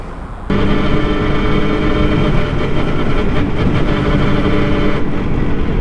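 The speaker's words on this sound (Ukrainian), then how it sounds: "Ну, брякает, это почти нормально для Явы 12-вольтовой." A Jawa 350 638 12-volt motorcycle runs loud and close, its engine chugging unevenly with a mechanical rattle under the steady drone.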